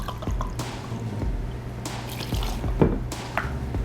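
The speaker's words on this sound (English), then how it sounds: "We're going to do 2 ounces of bourbon" Bourbon poured for a smoked bourbon bacon cocktail, a close liquid trickle with drips and small splashes running steadily for a few seconds over a low background hum.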